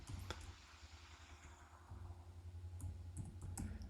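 Faint, quick clicks of computer keyboard keys as a web address is typed, with a few sharper taps near the start and end over low room hum.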